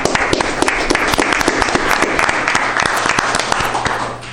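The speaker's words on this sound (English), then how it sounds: "yep, we can clap, absolutely." Applause breaks out at a city council meeting in Eden Prairie, a dense, steady crowd clapping that fills the room for several seconds and eases off slightly at the end.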